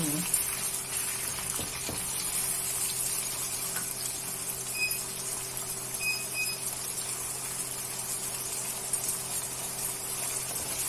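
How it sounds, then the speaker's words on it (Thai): Marinated plant-based sweet pork fries in a pan with its marinade liquid, giving a faint, steady hiss of sizzling that runs evenly throughout without a pause. "ใส่ลงไปด้วยเลยนะคะ แล้วก็ทอดให้เขาแห้ง"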